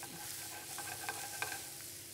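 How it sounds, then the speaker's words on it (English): Chopped garlic sautéing in hot oil, with a steady soft sizzle and a few light stirring scrapes, fairly quiet, with no voices. "I'm going to add our chopped garlic and saute this for a while."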